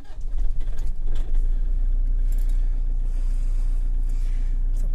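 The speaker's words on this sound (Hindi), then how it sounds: "तो कोल्ड स्टार्ट हमने कर लिया अपनी गाड़ी, दूसरे सेल्फ के बाद गाड़ी स्टार्ट हुई है" A vehicle engine idling just after a cold start at high altitude in Ladakh, a deep steady rumble that starts rougher and uneven, then settles into a constant low drone.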